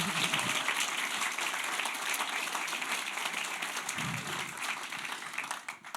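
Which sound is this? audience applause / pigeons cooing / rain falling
audience applause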